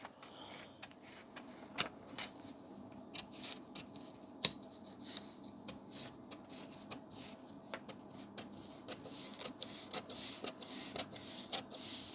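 Scissors snip through blouse fabric along a marked line for the front panel, giving a steady series of short, crisp cuts close by in a quiet room with no talking.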